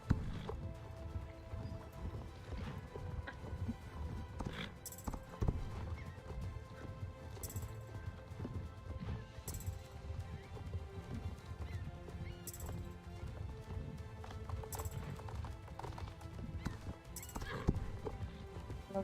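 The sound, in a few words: horse hooves in a video game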